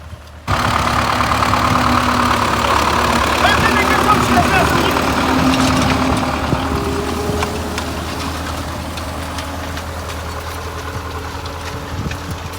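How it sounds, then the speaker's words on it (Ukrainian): A steady MTZ-50 tractor engine idles and rumbles continuously at close range, its drone easing slightly toward the end. "Пішов трактор, як має бути."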